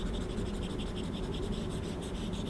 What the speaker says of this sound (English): it also sounds like real paper when you're writing or drawing on the display.